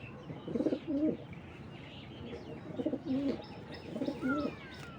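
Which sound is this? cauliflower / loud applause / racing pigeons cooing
racing pigeons cooing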